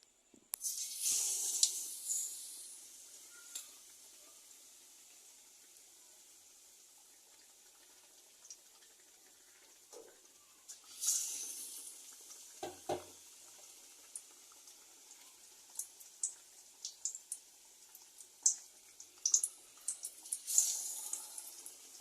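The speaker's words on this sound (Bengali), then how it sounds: "এবার আমি এক এক করে আলুর চপগুলো ভেজে নেব।" Battered potato chops (aloor chop) fry in hot oil in a kadai wok, giving a steady high hiss with swelling bursts of bubbling and crackle. No voices are heard.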